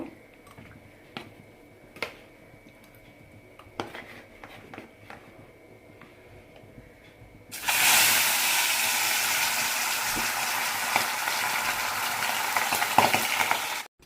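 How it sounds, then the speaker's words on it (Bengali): Fish fries in a pan: after several sharp clicks and knocks in a quiet room, a loud, dense sizzle starts abruptly about halfway through and continues steadily to the end, close and with no voices. "এখানে আমি মাছটা ফ্রাই করে নেব"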